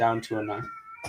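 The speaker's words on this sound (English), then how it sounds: "I think that's a cat outside." A cat meows outdoors, several short, clear, fairly close meows in quick succession, heard over a man's speech.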